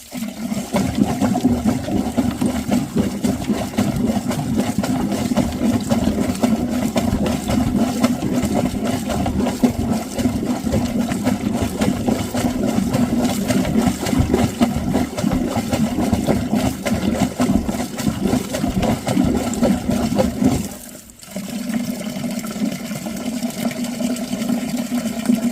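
Water draining steadily through a freshly unblocked drain, a continuous gurgling rush that briefly drops out near the end before resuming.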